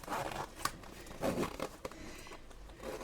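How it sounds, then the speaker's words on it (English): Sewn backpack zippers shifted about on a work surface, giving soft, faint crinkling and brief metallic zipper rustles in short scattered bursts over a quiet background. "let me move my zippers out of the way."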